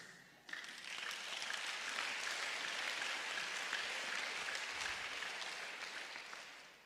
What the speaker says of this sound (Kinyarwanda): I love your unbelieving clap of hands.